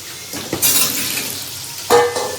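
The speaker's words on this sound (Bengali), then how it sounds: "না, আগে আলুটাই ভাজি, পটল ভাজলে তেল কালো হয়ে যাবে।" Potatoes frying in a small wok, a steady sizzle broken by two louder bursts of stirring and metal clinks against the pan, no voices.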